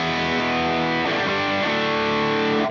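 An electric guitar played through a HangmanFX pedal set for distortion rings out as sustained, dense, saturated chords, loud and alone, with a change of chord partway through.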